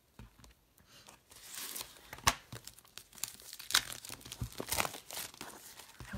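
Packaged Magnolia Lane paper cards and envelopes being opened, with repeated crinkling of cellophane and paper, a few sharp tearing bursts, close and fairly loud, no talking.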